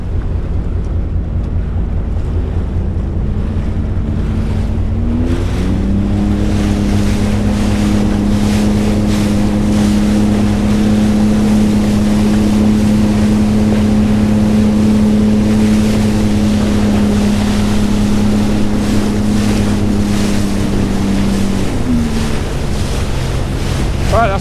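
Outdoor recording near a Great Lakes ship, its propeller churning the water into a loud, continuous rumble under heavy wind buffeting the microphone, while a steady engine drone rises and holds for most of the stretch.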